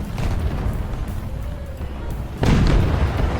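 A muffled booming blast rumbles through a War Thunder battle soundscape, followed by a sharper, louder burst of noisy rumble near the end.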